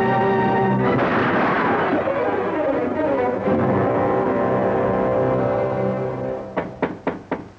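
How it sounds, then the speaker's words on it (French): Revolver shots in an old western film: a loud booming report with long echoing decay, then a rapid series of sharp, fading cracks near the end. "Ça ne vous fait rien que je tire mon revolver pour vous faire voir?"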